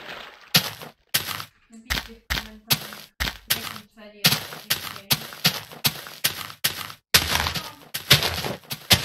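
Something blows up in Minecraft beta: a long run of sharp cracking, smashing bursts in an irregular rhythm, loud and close, separated by brief silent gaps.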